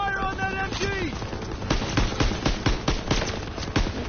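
Rapid gunfire from rifles and a machine-gun nest in the World War II shooter Call of Duty: WWII, sharp repeated cracks in an irregular burst, loud and close, following a stretch of shouted voices at the start.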